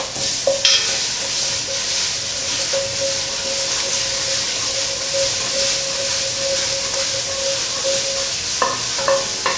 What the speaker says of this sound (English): I'm going to saute the garlic for a minute for it to be fragrant.